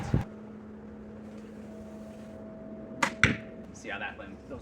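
Arrows from a homemade 60lb PVC war bow strike a target box in a few sharp thuds, one near the start and two close together later, with faint background hum and brief noises afterward.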